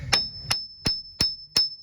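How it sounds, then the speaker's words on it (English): A hammer strikes a screwdriver against a seized brake caliper on a 2004 Chevy with a 6.0 engine: five sharp, evenly spaced metallic clinks, close and ringing, alone without talk. "working it back and forth with the hammer and the screwdriver"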